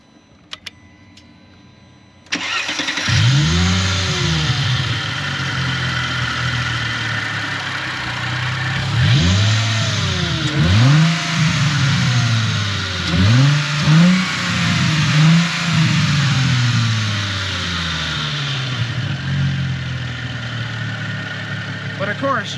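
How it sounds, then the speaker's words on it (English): A modified Chrysler Crossfire SRT-6 engine cranks, catches and settles into a steady idle, then revs up and down several times in quick bursts, loud and close, with the idle holding between blips. "turn the ignition all the way off, and then put it back in, then start it"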